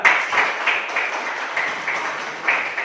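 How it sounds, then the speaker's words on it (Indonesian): Applause from a classroom group at the close of a teacher training session, a steady crackle of many hands clapping that holds for the full stretch without pause. "Kasih aplaus buat semua"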